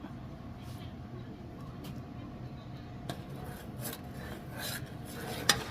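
A spoon stirs hot mashed potato base in a cooking pot, giving a steady low scraping rasp with a few sharper clinks toward the end, close and moderately quiet.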